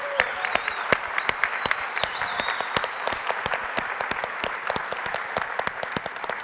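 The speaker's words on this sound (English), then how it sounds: "can we just have a quick round of applause for these young folks?" Quick round of applause for young student teams at a fab education event, a steady patter of many hands with distinct sharp claps standing out nearby, joined by a few faint whistles or cheers.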